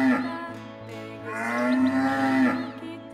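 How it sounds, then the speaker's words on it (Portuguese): A black-faced ox moos loudly and close in a children's lullaby cartoon, one long drawn-out bellow swelling and falling over a sustained low tone. "É o boi da cara preta!"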